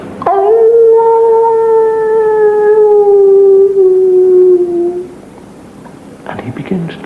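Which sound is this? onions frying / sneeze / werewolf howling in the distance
werewolf howling in the distance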